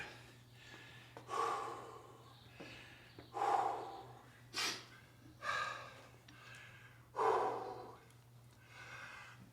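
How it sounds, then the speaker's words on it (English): A masters Olympic weightlifter breathes hard after lifts, heavy audible gasps and exhalations coming every second or two, close to the microphone, over a faint steady hum with no speech. "I'm breathing hard."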